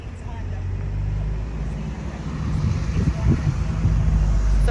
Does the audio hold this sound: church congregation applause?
no